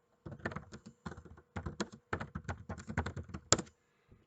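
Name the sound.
typing on a computer keyboard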